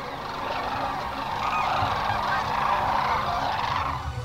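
Sandhill cranes calling on a favored stretch of river during spring migration, a dense chorus of many rolling, honking bird calls blending steadily together at moderate distance with no speech.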